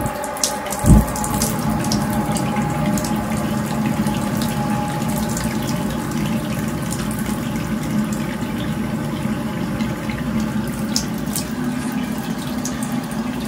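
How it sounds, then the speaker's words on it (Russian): Hot water runs steadily from a tap in a plumber's domestic job, a continuous hiss of flow close by, with a faint thump near the start and no talk over it. "Включаем горячую воду."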